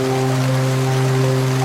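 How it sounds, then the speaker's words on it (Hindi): Steady rain falls evenly throughout a short scene from an animated Hindi story, a constant hiss alone with a low hum beneath and no talk. "माँ, मैं इस बारिश में भीग गया हूँ"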